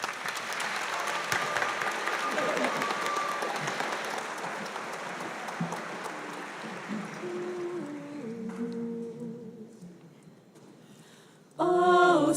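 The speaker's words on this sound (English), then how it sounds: "please give a warm round of applause to welcome our senior vocal jazz members" A crowd at a high school graduation ceremony applauds, a broad wash of clapping that slowly fades away over several seconds before singing voices begin.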